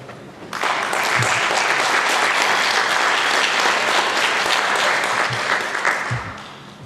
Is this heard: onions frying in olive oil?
no